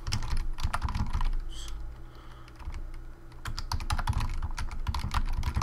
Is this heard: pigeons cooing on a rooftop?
no